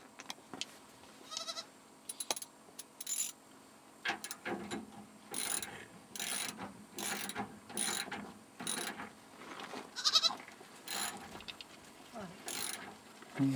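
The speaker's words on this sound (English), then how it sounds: "Bringing the goats for a drink." Repeated goat bleats sound in loud, short bursts in the Sahara, several animals calling close by as they are brought to drink, some overlapping, with scattered clatter between calls.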